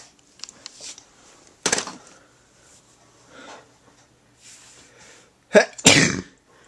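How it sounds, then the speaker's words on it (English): Two sharp, loud sneezes close to the microphone from a person, the first alone and then another a few seconds later, separated by quiet room sounds and faint handling noises. "Sorry, I sneezed twice."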